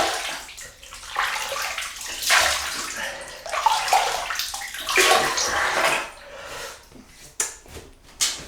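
Water splashes and sloshes in a basin as the face is wetted before a wet shave with a Razorock ECO single-edge razor, loud and close, ending in a few sharp drips and clatters.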